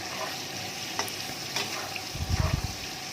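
Pieces of meat fat fry over low heat in oil for ghugni with a soft, continuous sizzle, close and fairly quiet. A few spatula clinks and scrapes stir through it, heavier toward the end.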